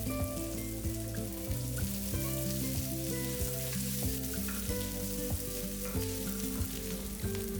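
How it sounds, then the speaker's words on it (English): Cumin seeds, whole spices, garlic, ginger and chopped onion sautéing in a pan, a steady close sizzle with occasional stirring clicks, over a continuous background of soft music-like tones, no voices. "Along with garlic, ginger, chopped onion and saute everything till onions go translucent."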